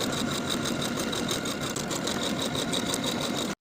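A sewing machine stitching buttonholes on a shirt front, a fast, steady mechanical whir with a rapid pulsing rhythm that runs without a break and then stops abruptly.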